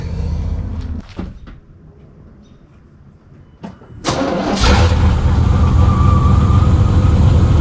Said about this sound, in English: As you see, it started up pretty easy. The engine's nice and cold and the starter's nice and cold.